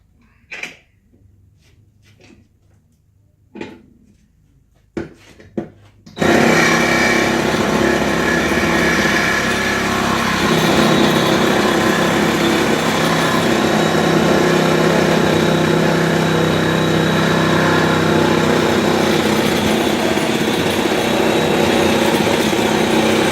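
A Milwaukee M12 Fuel 2520-21 cordless hacksaw cuts through thick metal clamped in a bench vise, starting after a few clicks and knocks with a loud, steady reciprocating buzz that runs unbroken to the end.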